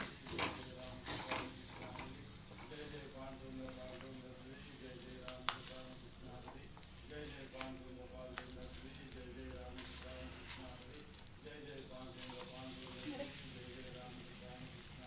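Akki rotti, a thin rice flatbread, sizzling steadily on a hot griddle on a village-style stove, a loud continuous close hiss with occasional scraping and stirring clatter over it.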